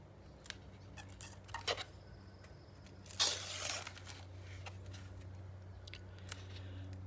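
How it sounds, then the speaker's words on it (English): Tape being peeled off a paper craft mini album, heard as a close, quiet series of scratchy pulls with one longer ripping tear in the middle, set against a steady low hum. "let's go ahead and get the rest of the tape off of here"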